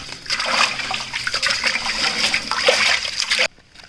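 Biryani rice being washed in water for a village-style chicken dum biryani, a continuous close sloshing and splashing wash that stops abruptly near the end.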